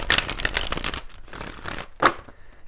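A deck of tarot cards shuffled by hand, a dense close riffling flutter for about a second, a brief pause, then a softer second round ending in a sharp snap.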